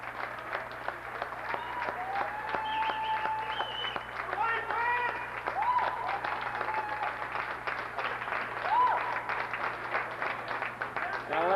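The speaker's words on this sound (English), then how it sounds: "Big round of applause." Crowd applause at a 2002 high school hockey championship game, WRA versus Mayfield, a steady wash of clapping running throughout with a voice talking and whistles or cheers over it in a large echoing rink.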